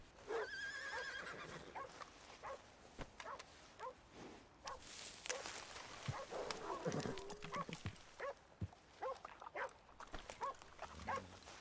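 Horse neighing and whinnying in a video game, a clear whinny at the start followed by dog barks, snorts, and scattered game sounds at low level.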